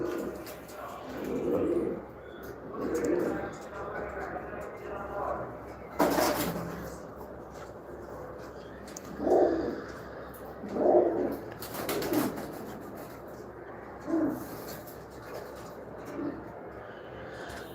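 Racing pigeons coo in a home loft during feeding, a series of soft, low, rounded calls recurring every second or two, with a couple of brief louder clacks and faint background voices.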